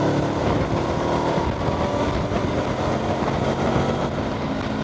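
A Honda NX400 motorcycle in sixth gear accelerating toward 120 km/h on a highway, a steady loud engine drone with heavy wind rush, cruising at high speed without pause.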